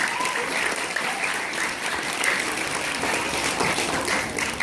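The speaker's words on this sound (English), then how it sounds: "let's give him a round of applause for that" An audience at a school gives a steady round of applause, dense clapping filling the whole stretch at an even, moderately loud level.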